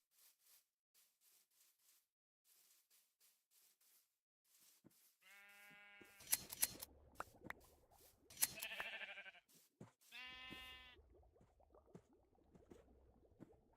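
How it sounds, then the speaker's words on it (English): Minecraft sheep bleat several times in a row, with short harmonic calls clustered in the middle of the clip, standing over soft in-game shuffling and faint background clicks. "Lots of sheep over here."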